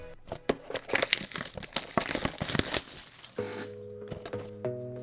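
Foil wrapper of a 2021 football trading card pack being ripped open, a dense burst of crinkling and tearing for about three seconds, then quieter handling with a soft sustained chiming tone underneath.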